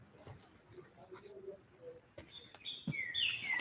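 Birdsong in a woodland setting, with faint chirps through the first half and clearer, louder high tweets and calls building toward the end, over a soft outdoor ambience.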